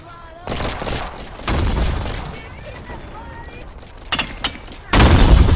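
Gunfire rings out in the VR game Animal Company, bursts of loud, sharp shots and booming volleys coming in clusters with brief lulls between, mixed with voices talking over the chaos.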